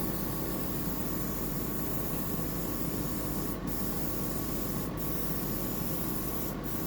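An airbrush blasts out metallic gold paint in a continuous close hiss, broken by three brief cutoffs near the end as the trigger is released.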